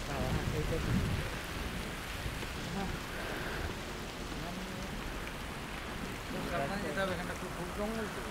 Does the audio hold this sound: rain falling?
yes